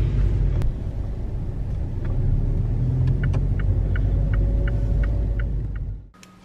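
A car drives along with a steady low engine and road rumble heard from inside, close and continuous, with a repeated light ticking partway through before the noise drops away at the end.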